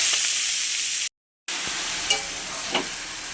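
Red amaranth greens with black cumin frying in hot oil, a loud, steady close sizzle with a brief gap and a couple of faint clinks.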